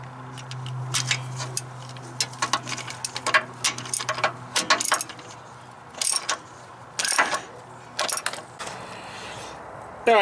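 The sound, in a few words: tightening Chevy TBI knock sensor with ratchet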